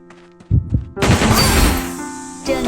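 A heartbeat sound effect from the shooter game CrossFire: low, repeated thuds in quick rhythm, soon buried under a loud burst of game noise and crashing effects.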